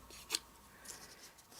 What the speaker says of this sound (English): and then cut off the excess